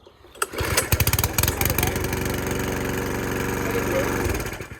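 A Mountfield petrol lawn mower with a hot-restart fault catches after a few quick pulling chugs, then settles into a loud, steady close-up running roar.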